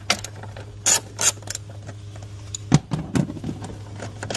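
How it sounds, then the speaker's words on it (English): Ratcheting on the 10 mm valve cover bolts of an Infiniti FX37 comes through as a few short mechanical clicks and clacks. They are scattered over a steady low hum, with a couple of louder knocks near the end. "There are a total of 5 10 mils holding this cover in place. So just loosen those."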